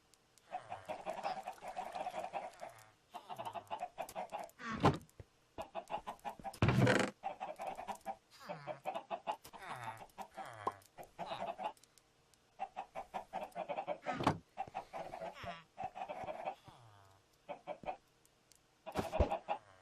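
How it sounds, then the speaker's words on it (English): Repeated Minecraft chicken clucks and squawks in short bursts, with occasional sharper calls, fairly close and clear against a quiet background. "And the chickens will go into the box."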